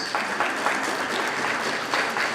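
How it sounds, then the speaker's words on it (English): An audience claps, a continuous even wash of applause filling the whole moment at moderate volume with no voices over it. "You are clapping to that also?"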